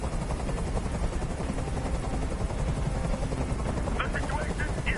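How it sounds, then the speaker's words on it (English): A helicopter's rotor in the video game Detroit: Become Human thrums in a steady, loud chopping drone throughout, with faint bursts of higher sounds near the end. "Tell that helicopter to get out of here."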